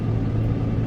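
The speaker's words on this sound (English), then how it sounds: "my car is really loud" Loud, steady low rumble of a car engine in need of a new PCV valve and hose, droning continuously at close range with no voices over it.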